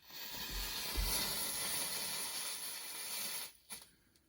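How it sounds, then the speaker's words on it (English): Homemade rocket fuel from a MEL science kit, lit on a stick beside a stove, burns with a steady loud hiss lasting about three seconds before cutting out abruptly into a few faint pops. "That was rocket fuel."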